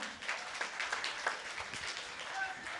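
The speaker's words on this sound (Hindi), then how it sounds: "तो रोहित सर के लिए एक बार बहुत अच्छे से तालियां बजाए।" Students in a coaching class applaud their teacher Rohit sir at a Teachers' Day gathering: a steady wash of many hands clapping at moderate volume, with voices mixed in underneath.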